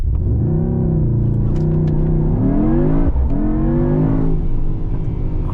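A Mercedes-AMG GT63 hybrid V8 accelerates hard in race mode, its loud engine note rising quickly with a short break at each upshift as the roar builds again, and nobody speaks.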